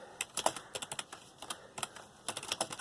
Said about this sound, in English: I'm typing with one hand, so excuse me.